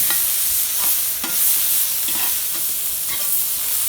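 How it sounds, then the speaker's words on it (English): Johnsonville chorizo toasting in a pan over coals, loud and close, with a steady crackling sizzle and repeated scraping strokes of a utensil stirring the pieces. "let's stir these up again. They start to toast a little bit"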